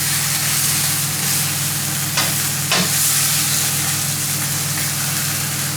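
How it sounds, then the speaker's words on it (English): Meat sizzles loudly in a hot pan, a dense continuous crackle close up, broken by a couple of quick scraping stirs, with no voices. "Now you can see the meat is getting cooked"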